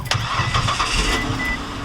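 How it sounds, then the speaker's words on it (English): A car engine cranks with a quick starter whir, then catches and settles into a steady idle, close and fairly loud, with no talk over it. "Alright, car is started."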